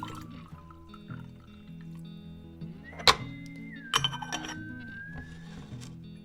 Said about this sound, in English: So I'm going to get ready to pour our water in here.